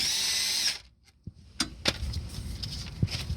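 A power tool whirs loudly for under a second, removing the bottom brake caliper bolt on a 2002 Toyota RAV4, then stops, followed by faint metallic clinks and handling noise nearby.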